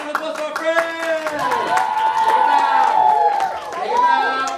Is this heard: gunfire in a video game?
no